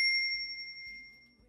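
A single bright notification bell ding rings out cleanly and decays slowly over about a second and a half, alone and fairly quiet.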